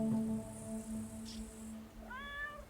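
Cat in FERA The Sundered Tribes giving a short rising meow near the end, after a steady tonal drone and soft game sounds.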